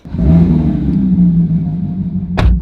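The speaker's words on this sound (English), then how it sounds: "That's the first good part about this car is the engine noise." Porsche 911 GT3 engine holding a steady loud idle-to-rev drone throughout, close to the microphone, with a sharp bark of revving near the end.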